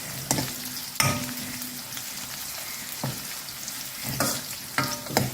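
Ingredients sautéing in a pan for a tamarind-free mango sambar with pumpkin, a steady sizzle broken by several sharp stirring scrapes and clanks, close and alone with no talk.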